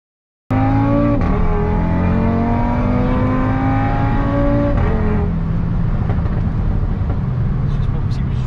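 Audi RS3 with Stage II tune accelerating hard from a sudden start, its engine note climbing through gear changes and then droning loudly, with people talking inside the car.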